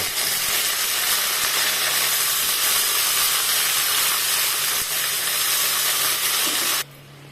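Brinjal pieces sizzle and hiss in hot oil with steady broadband frying noise, close and continuous, dropping suddenly near the end.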